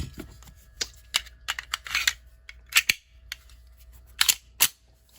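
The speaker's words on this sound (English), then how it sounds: "the gun will cycle an empty round from the magazine" Detonics 9mm pistol cycling an empty primerless casing from its magazine, a series of sharp metallic clacks and clicks at close range, irregular and fairly quiet, with no voices.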